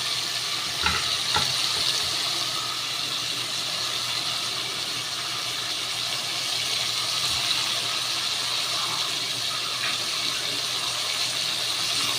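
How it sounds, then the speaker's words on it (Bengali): Prawns fry in a pan with a steady, close, hissing sizzle that runs unbroken, with a couple of faint clicks near the start and no talk. "চিংড়ি মাছটা ভাজা হোক"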